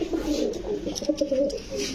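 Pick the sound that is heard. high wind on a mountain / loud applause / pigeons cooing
pigeons cooing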